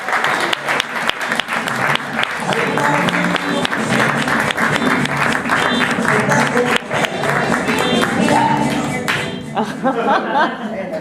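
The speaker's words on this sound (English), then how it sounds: "Please give a round of applause for Sean Michael Walker." Studio audience at a late-night talk show breaks into loud, sustained applause with scattered cheers and some chuckling, the clapping dense and continuous throughout before easing slightly near the end.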